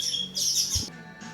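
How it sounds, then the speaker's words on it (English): Birds chirp in short, bright bursts nearby, with a brief low thump in between and faint background hum. "Birds are pretty noisy."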